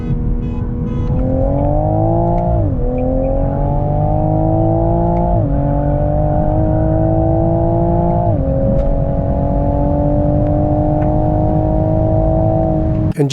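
A Toyota Supra's engine roars at full throttle while racing a tuned Audi S5, heard loud and close from the cabin as the pitch climbs steadily through a few quick upshifts, each bringing a brief dip before the pull continues.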